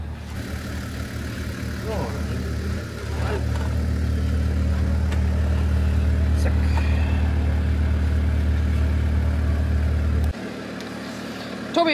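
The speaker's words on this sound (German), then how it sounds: "Jetzt kommt das Bergefahrzeug einmal zurückgefahren." An Ineos Grenadier recovery vehicle reverses with a steady, low engine rumble that swells slightly and then cuts off near the end, while someone talks over it.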